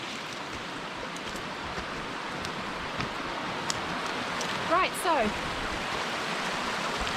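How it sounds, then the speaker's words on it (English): A river rushes in a steady broadband roar at a bush camp, loud and continuous, while someone talks briefly over it. "the river's going to get pretty loud"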